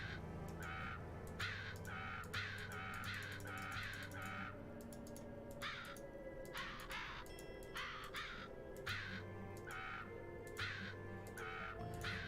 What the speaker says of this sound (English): see the crows up here?